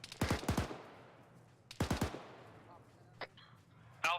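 Gunfire in a military video game, two loud sharp bursts of rapid shots spaced apart, followed by fainter distant pops and clicks over a low background hum.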